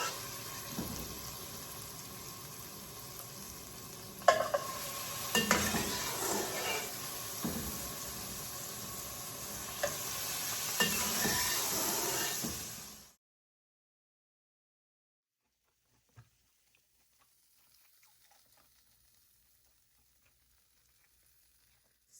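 Garlic gnocchi dropped into hot butter in a pan gives a steady, close sizzle with a few stirring knocks. It holds for about thirteen seconds, then cuts off to near silence with a faint clink.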